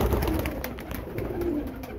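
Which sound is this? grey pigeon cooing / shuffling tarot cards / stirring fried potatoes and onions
grey pigeon cooing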